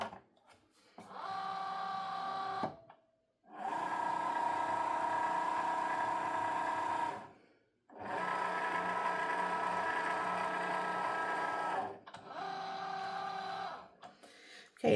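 A cutting machine for crafts draws a cutting mat in, giving a steady mid-pitched motor hum in three long bursts with short pauses between them. No voices are heard.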